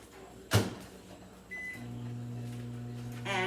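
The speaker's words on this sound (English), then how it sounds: "I have chili in the microwave I'm going to put on right now" Microwave oven heating a bowl of chili in a home kitchen: a door clunk, then a steady low hum running with a faint higher whine, ending in a brief clatter.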